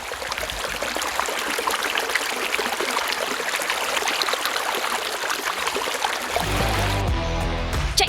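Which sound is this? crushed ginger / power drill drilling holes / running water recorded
running water recorded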